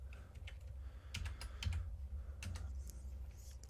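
Typing on a computer keyboard while entering Arduino code for a model railroad speed-matching project: a quick run of close, irregular key clicks over a low steady hum, with no speech.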